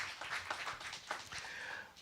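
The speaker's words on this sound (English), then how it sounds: "give yourselves a round of applause." A church congregation at a Sunday celebration service claps in scattered, moderately quiet applause for about two seconds, with no speech over it.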